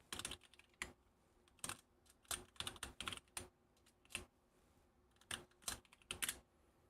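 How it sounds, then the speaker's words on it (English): Typing on a computer keyboard in short irregular bursts of close, crisp key clicks separated by brief pauses, with no voices. "Watch me have the other camera on my hand that's typing all the passwords in"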